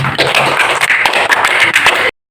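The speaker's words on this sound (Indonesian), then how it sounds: "Ya, tepuk tangan semua." A sixth-grade classroom of students clapping together, a dense, loud burst of hand claps lasting about two seconds before cutting off abruptly.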